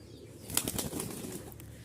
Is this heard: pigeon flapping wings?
yes